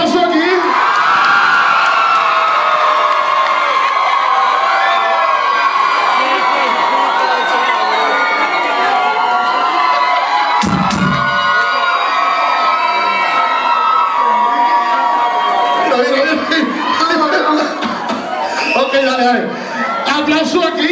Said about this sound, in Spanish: ¡Aplauso aquí!